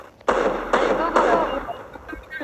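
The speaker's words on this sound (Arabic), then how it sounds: "وين هذا الرمي؟ اكو رمي." Gunfire in the mobile battle royale game Free Fire, three loud bursts of shots in quick succession, each with a crackling tail, over a steady low background.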